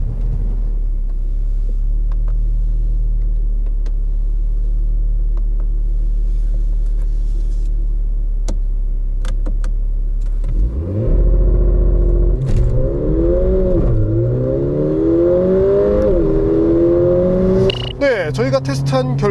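A 2018 Mercedes-AMG GLA 45 4Matic accelerating hard in a test: a steady idle rumble, then a loud engine surge at launch with rising revs and clear gear changes, close and prominent.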